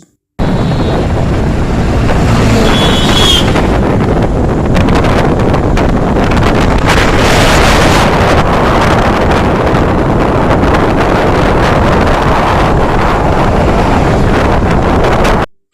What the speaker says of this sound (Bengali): বন্ধুরা, বাইকে করে পিকনিকে যাচ্ছি।